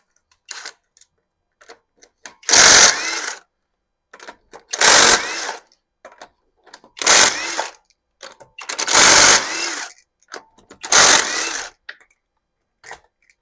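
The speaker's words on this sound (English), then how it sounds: "start drilling some of these spot welds" A power drill drills out spot welds on a Mazda car body in five short bursts separated by pauses, loud and close, with small clicks and clatter between bursts.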